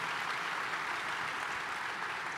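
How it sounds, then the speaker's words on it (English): Steady, fairly faint audience applause fills the hall without pause, a soft wash of many hands clapping for three guests at a coach interview event. "Round of applause for all three of these gentlemen joining us."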